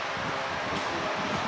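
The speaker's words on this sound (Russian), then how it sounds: "ну и просто ветер," Steady outdoor wind rushing and buffeting continuously, a broad airy roar with low rumbling gusts and no voices.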